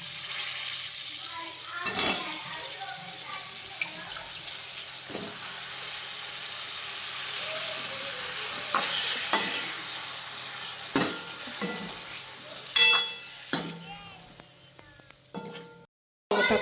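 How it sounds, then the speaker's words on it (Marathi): Chopped eggplant frying in hot tempering oil in a kadhai, a soft continuous sizzle with occasional spatula scrapes and clanks against the pan, close up, with a few brief louder knocks near the end. "मी तर आता कढईमध्ये भाजीसाठी फोडणी देऊन घेतली. आता वांगे टाकून घेतले."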